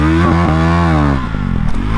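A KTM Duke 390 fitted with an Akrapovic exhaust revs hard for a wheelie, the loud engine note rising and dipping over about two seconds, close by.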